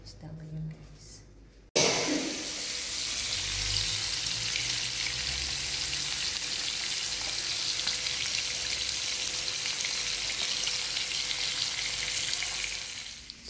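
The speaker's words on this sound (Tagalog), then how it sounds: "Nagluluto lang po ako ng isda ngayon" Fish fries in a pan with a loud, continuous crackling sizzle that starts abruptly after a few seconds of quieter sound and holds steady up close.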